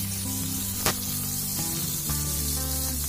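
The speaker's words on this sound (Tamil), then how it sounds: "நான் வந்து டீப் ஃப்ரை தான் பண்ண போகிறேன், ரெண்டு சைடுமே போட்டு பண்ண போகிறேன்." Fish deep-frying in hot oil for a Chettinad-style fish fry gives off a steady, close hiss and sizzle with brief crackling pops, and a low hum runs beneath it.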